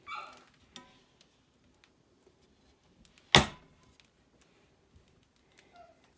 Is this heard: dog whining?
yes